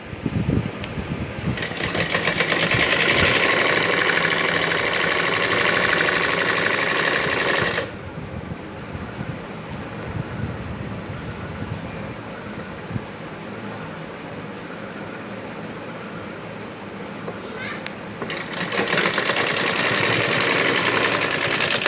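A sewing machine stitching a belt salwar runs in two loud, fast, steady bursts, one early and one near the end, with a lower mechanical hum in the quieter stretch between them.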